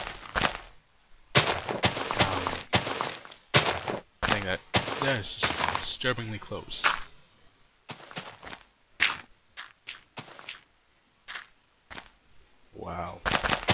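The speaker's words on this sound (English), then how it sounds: "Apparently the neighbors are firing off fireworks" Neighbors' fireworks go off outside in irregular bursts of sharp cracks and rapid crackling volleys, some close and loud, with someone talking between and over the bangs.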